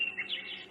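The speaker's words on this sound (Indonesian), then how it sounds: "Suara burung ini bagus sekali." Bright songbird chirps, a few quick rising and falling whistled notes close by, heard alone with no talk.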